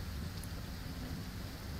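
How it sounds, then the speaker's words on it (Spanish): Steady rain with a low rumbling thunder bed fills a stormy scene in the survival video game No One Survived, dense and continuous with no voices. "Ah, que está lloviendo,"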